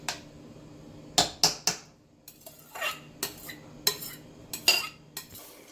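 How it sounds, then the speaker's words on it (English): Metal spoon spreading rice evenly in a pot of beef biryani: a series of sharp clinks and scrapes against the pot, some in quick bursts and some spaced out, close and fairly quiet with no talk. "And then spread the rice evenly."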